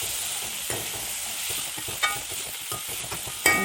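Gooseberries sauté in a pan for pickle, giving a steady hiss of sizzling oil broken by a few scraping stirs of a spoon, close up with no voices.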